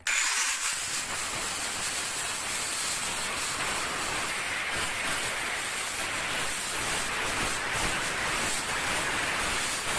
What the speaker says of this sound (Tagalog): i-grinder ko po mga kastig para magkasya po siya